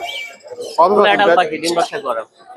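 Brief high parakeet chirps under a person talking close by at a bird market, the calls short and scattered.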